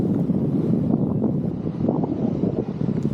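Strong wind buffets the microphone during a paraglider landing in a field near trees, a loud, steady broadband roar with gusty surges throughout and no voices.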